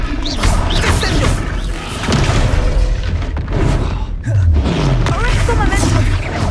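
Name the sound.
Descendo spell impact in video game Hogwarts Legacy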